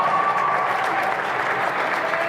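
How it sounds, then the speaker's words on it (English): Steady, loud applause from the crowd at a squash match at the Namibian Open, continuous clapping that fills the whole moment with no let-up. "There's big applause here for that shot."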